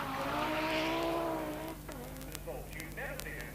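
An Audi rally car driven by Hannu Mikkola launches off the start line with a high-revving engine that climbs and shifts, then fades as the car pulls away, heard under spectator noise and commentary-like voices.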